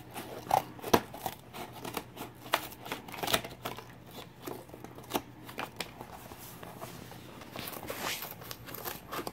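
Scissors snip and crunch through packing material while a mug is wrapped for USPS flat-rate shipping, with quick close cuts and rustling handling noises and no talking.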